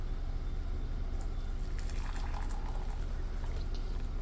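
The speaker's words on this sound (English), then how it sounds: "I'm gonna add about a half a cup of boiling hot water to this so that it can brew." Boiling hot water pours into a two-cup measuring cup over tea to brew, a steady close liquid splashing and bubbling stream lasting several seconds without talk.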